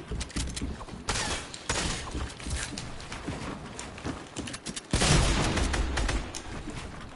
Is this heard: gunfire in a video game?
yes